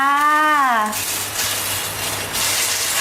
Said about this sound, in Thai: เดี๋ยวเราจะผัดเส้นก่อนนะคะ